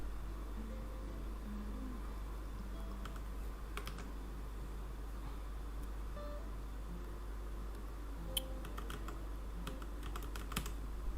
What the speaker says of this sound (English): I am using greater than and less than keys on the keyboard to go front and back.